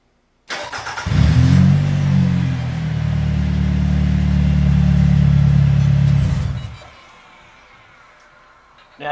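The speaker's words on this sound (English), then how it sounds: "Going to go ahead and remote start the vehicle." A vehicle's engine starts by remote start, cranking briefly and then settling into a loud, steady idle close by for about five seconds before dying down into quiet.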